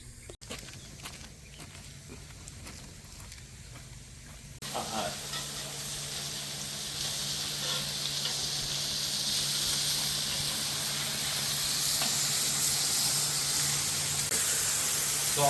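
Sausage and bacon frying together on a griddle give a steady, loud sizzle and hiss that swells after a few seconds and holds close and continuous, with faint scraping beneath.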